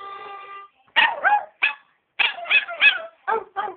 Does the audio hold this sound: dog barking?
yes